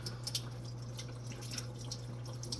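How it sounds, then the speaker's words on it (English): Hands rinsed under a running kitchen tap while cooking a Jamaican meal, heard as a steady, soft trickle with scattered drips and splashes; quiet and close, no one speaking. "To make sure I rinse my hands off properly."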